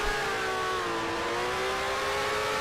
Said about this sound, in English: Got the revs running high.